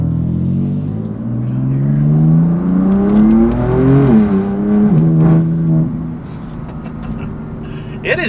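A BMW M4 CS with the S55 engine revving, its pitch climbing steadily, peaking and dipping, then settling back into a loud, close, raspy drone before trailing off.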